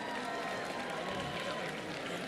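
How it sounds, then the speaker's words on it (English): A large audience at the Miss World 2025 pageant finale applauds and cheers in a steady, dense wash of clapping that fills the whole moment without a break. "we start to give a big round of applause"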